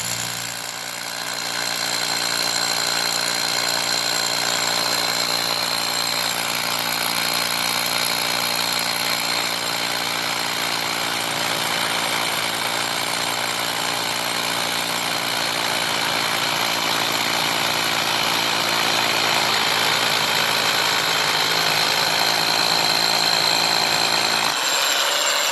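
A cordless Japanese rotary hammer drill bores into concrete in fast drilling mode, giving a steady, even mechanical whir with a humming tone that runs close and unbroken for over twenty seconds.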